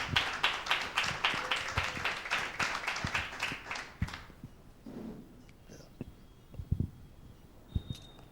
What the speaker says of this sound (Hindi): एक जोरदार ताली देंगे परमेश्वर के नाम की महिमा के लिए।